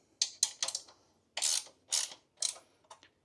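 Wrench loosening the 17mm axle nut on a Boom Vader 125cc motorcycle: close, dry ratcheting clicks in short bursts, first several quick ones, then longer ratchet pulls separated by brief pauses.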